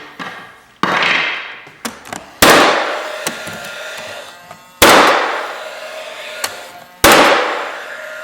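A nail gun fires sharp, loud pneumatic shots while attaching panel moulding to a wall for recessed wainscoting, with around five bangs at irregular intervals, each trailing off in a hiss or ring, heard close and alone.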